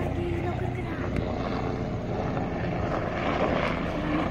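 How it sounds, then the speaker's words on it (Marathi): Helicopter flying somewhere overhead in thick fog at Lohagad fort during the rains, a steady low rotor drone that stays fairly even throughout with a faint voice nearby. "बघा हेलिकॉप्टर."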